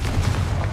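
A Confringo fire spell bursting in Hogwarts Legacy, a dense low rumbling boom that fills the whole brief moment at steady loudness, with no voices over it.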